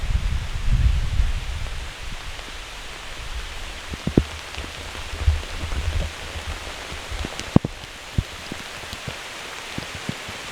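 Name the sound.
heavy rain downpour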